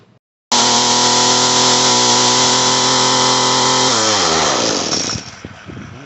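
Echo GT-251 string trimmer engine starts abruptly and runs loud and steady at high speed for several seconds, then slows and sputters down near the end; no talk.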